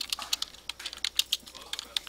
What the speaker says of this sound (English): use the text tool and just type out